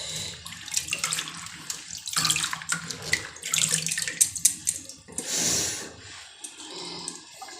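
Spinach leaves get a second rinse under running tap water in a kitchen sink while palak paneer is prepared. Close, steady splashing and gurgling comes in uneven bursts as the leaves are handled, with no voices.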